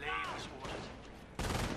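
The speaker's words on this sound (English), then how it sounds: "the MG is now getting sniped by the sniper from Sandland" Gunfire in a World War II strategy game: a machine gun position under fire from a sniper, with a brief rattle of shots at the start and a loud burst of fire near the end, heard against a steady bed of battle noise.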